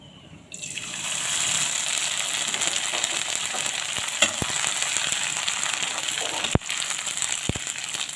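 Oil in a kadai sizzles steadily, starting abruptly and holding a loud, broad hiss, with a few sharp clinks partway through.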